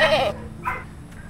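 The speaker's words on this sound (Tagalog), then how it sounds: "Buti pa tong kambing na to, no?" A goat bleats loudly and close by, followed by a shorter, softer second bleat and a faint trailing call.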